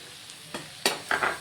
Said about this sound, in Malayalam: ഇതിപ്പോൾ ചിക്കൻ ഞാൻ തട്ടാൻ കൊണ്ട് ഇളക്കുകയാണ്